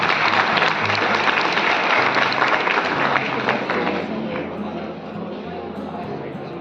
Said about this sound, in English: Please round of applause, guys.